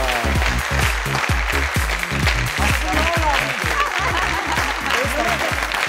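Studio audience applause on the quiz show Tamam La, loud and continuous clapping layered over a driving rhythmic music beat with steady thumping pulses.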